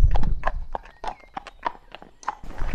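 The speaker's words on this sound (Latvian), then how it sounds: "kad cilvēks uz zirgu brauc" A horse's hooves clip-clop at a walking pace on rocky ground among the cliffs of England's Peak District while a person rides it; the hoofbeats are close, clear and irregularly spaced, with a brief snort or breath near the start.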